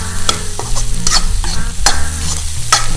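Egg frying in a pan with onion and coriander leaves, a loud close sizzle punctuated by several sharp scraping stirs of a utensil, no one speaking.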